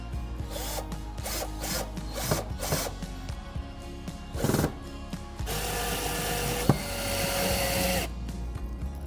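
Screws are driven in to mount a bathroom grab bar: several short scraping, rubbing bursts, then a longer steady buzzing run of a driver nearby, with no talking.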